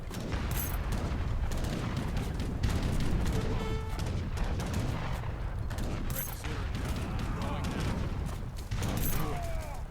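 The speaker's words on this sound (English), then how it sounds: "the cannon do a pretty good job of defending the walls" Cannon and musket fire from the Age of Empires 3 real-time strategy game, repeated booms and crackling volleys over a busy bed of clanking and battle noise, with a voice talking over it.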